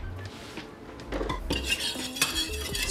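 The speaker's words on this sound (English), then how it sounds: "Stir it to help it melt." A spoon stirs a sliver of pigmented colored wax in a small container so it melts, making close clinks and scrapes in an uneven rhythm with no talking.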